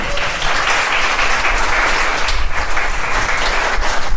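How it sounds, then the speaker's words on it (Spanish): Church congregation applauding for a newly appointed youth leader, a dense, steady wash of many hands clapping at close range that holds for about four seconds with no talk over it. "Denle un aplauso a la Pame, porfa."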